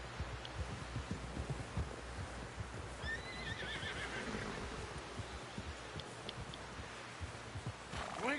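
A horse whinnies in Red Dead Redemption II, its neigh rising clearly midway over steady hoof clip-clop and rough outdoor ambience, with a brief second call near the end.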